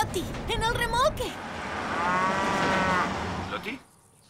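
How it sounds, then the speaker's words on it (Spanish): A cow in a trailer lets out a long, loud, drawn-out moo after a brief shorter call, close to the microphone, then falls quiet; a voice briefly overlaps at the start. "¡Voy con la vaca!"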